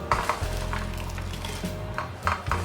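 Roasted peanuts and other roasted ingredients for a peanut chutney are tipped into a metal vessel, making intermittent close clattering and rattling with soft scraping between, and no talking.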